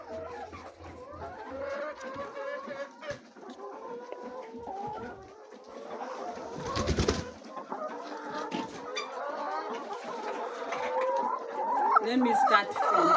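Laying hens in a poultry house cluck and squawk continuously, a dense chorus of many birds close by, with brief bursts louder than the rest and a short rustling flurry partway through.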